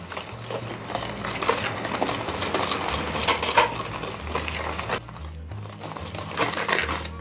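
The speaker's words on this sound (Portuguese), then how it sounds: "Agora vou acrescentar aqui o chocolate e vou mexer até dissolver aqui." Chocolate and sugar stirred in a bowl for a filled chocolate cake batter, a steady scraping and swirling that runs continuously at close range, with a short quieter break near the end.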